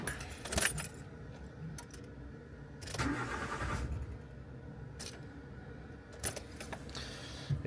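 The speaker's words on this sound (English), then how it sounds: "It just spins over and then stops." A car engine whose timing belt has broken cranks over for about a second and then stops, with keys jangling in the ignition before and after.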